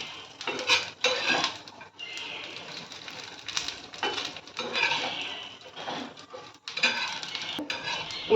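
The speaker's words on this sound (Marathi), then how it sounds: "त्या तेलामध्ये कांदा फ्राय करून घ्यायचा" Onion frying in oil for a Malvani-style chawli usal, with close clattering of a spoon stirring against the pan in irregular bursts over a faint sizzle.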